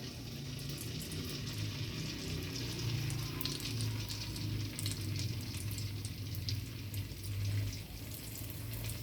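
Chettinad white paniyaram batter is ladled into hot oil and fries with a steady, close crackling sizzle that continues alone.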